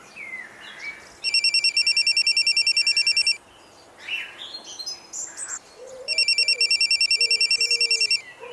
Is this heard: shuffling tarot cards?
no